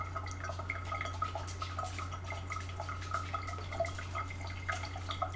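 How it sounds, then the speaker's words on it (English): Liquid from a beer brew drips through cheesecloth with a dense, steady patter of small drops over a low, constant hum, fairly faint and close. "Sounds like a kettle boiling, but it's just dripping."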